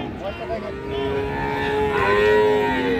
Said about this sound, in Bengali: একটা গাভী বাচ্চা আছে। আরেকটা গাভী বাচ্চা আছে।